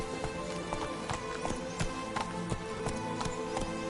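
Horse galloping in The Witcher 3 video game: rapid, steady clip-clop hoofbeats in a continuous rhythm over a dense background of game music and ambience, moderately close.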